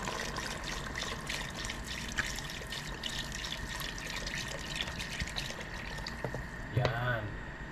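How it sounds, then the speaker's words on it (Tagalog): Water poured into a cooking pot while preparing a dish with chili leaves, a steady soft trickle and splash running throughout with faint background noise and a small clatter near the end. "Ngayon, lalagay ko na yung tubig."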